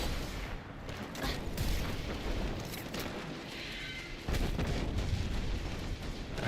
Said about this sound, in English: Who's shooting at me right now?